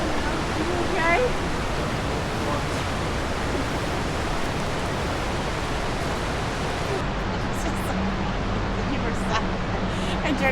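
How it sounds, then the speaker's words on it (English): A small waterfall beside a scenic mountain road near Gatlinburg, heard as a steady, loud, broadband rush of falling water that fills the whole stretch, with faint voices underneath. "This pretty little waterfall right here."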